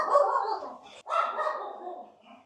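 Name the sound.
dog barking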